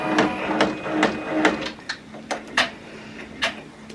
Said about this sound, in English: I've got my machine all set up and ready, and now I'm going to get it started.